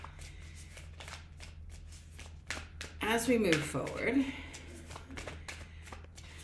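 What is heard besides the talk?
shuffling playing cards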